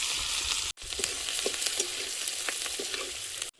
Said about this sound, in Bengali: তো তেলের মধ্যে দিয়ে দিচ্ছি পাঁচ ফোড়ন একটা শুকনো লঙ্কা হাফ করে দিয়ে দেবো পেঁয়াজ কুচি